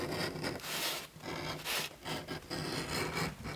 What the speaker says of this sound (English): This little edging tool. It just takes a little bevel off, as you can see.